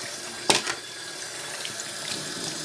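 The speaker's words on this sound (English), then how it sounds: "let me rinse this very quick here" Tap water runs steadily into a sink to rinse coffee-making equipment, with a brief clatter near the start, then a continuous close rush of water throughout.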